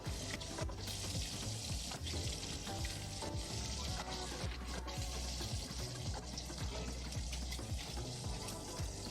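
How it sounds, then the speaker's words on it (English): Crispy bacon frying in a pan, with a steady, dense sizzle and crackle that runs unbroken throughout, close up and fairly loud, with no talking over it. "All right, we got crispy bacon going on here."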